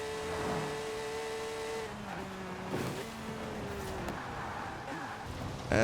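Porsche engine, likely a GT3 RS unit, revving high in Forza Horizon 4 on a rainy road, a loud sustained whine that climbs and drops through gear changes, with a sharp surge at the very end.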